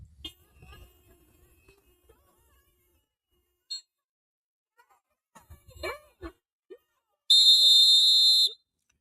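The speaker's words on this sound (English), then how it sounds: "What kind of grown ass man walks around with a whistle and whistles at law enforcement?" A protester's whistle, blown at law enforcement during an ICE detention protest, gives one loud, sustained shrill blast lasting about a second near the end, after scattered voices and faint background noise.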